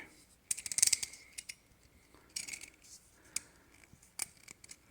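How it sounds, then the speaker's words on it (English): Cutting a small slot to feed a wire through during a JB4 tuner install on a 2020 BMW M8 (F91): faint, crisp snipping clicks in irregular bursts, with quiet pauses between cuts. "I'm just gonna basically cut a little slot, and that way I can feed the wire through on the other end."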